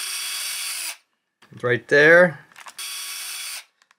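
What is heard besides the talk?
power drill drilling holes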